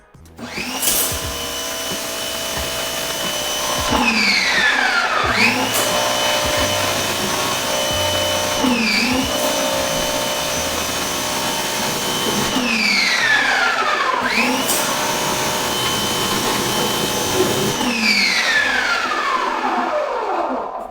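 An Active 2.0 machine driven by an induction motor runs loudly and steadily, its motor whine sliding downward and recovering in repeated cycles, as if bogging under load several times before picking back up.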